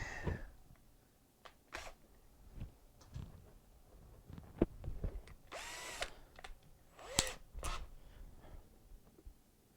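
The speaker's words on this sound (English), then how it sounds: "A lot of drill chucking." A power drill being chucked up repeatedly while building an anvil stand, with short whirring bursts and ratcheting clicks as the chuck is tightened. The bursts are scattered and irregular, close by, with quiet gaps and no talk.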